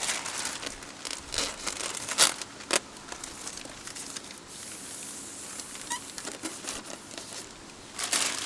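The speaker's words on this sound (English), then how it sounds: "go ahead and peel off the other side. Open up the plastic." Plastic backing film is peeled off a Porsche 911 RS door panel, giving close, fairly quiet crinkling and tearing crackles in irregular bursts throughout.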